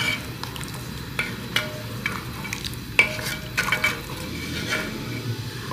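Spices, including Kashmiri red chilli, are stirred into mutton curry in a pot, giving soft scraping and clinking taps over a low sizzling hiss, close and fairly quiet.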